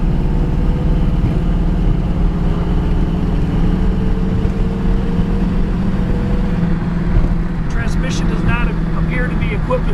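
A 1967 Ford Mustang engine drones steadily from inside the cabin during a test drive, a loud continuous low hum with road noise and someone talking over it.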